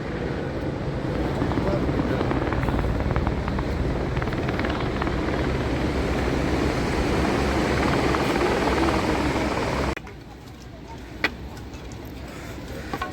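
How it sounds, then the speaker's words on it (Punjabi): A helicopter's heavy, steady rotor roar dominates, loud and close, in the mountains near Govindghat, before dropping off abruptly near the end to a quieter rumble. "ਇਧਰ ਹੈਲੀਕਾਪਟਰ ਵੀ ਆ ਗਿਆ ਦੇਖੋ ਹੈਲੀਕਾਪਟਰ ਦੀ ਸਰਵਿਸ ਸਟਾਰਟ ਹੋ ਗਈ"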